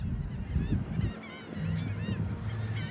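Shrill gull calls ring out over a gloomy Coney Island beach in Brooklyn, several loud wavering cries overlapping in quick bursts above a rumbling wind-and-surf backdrop.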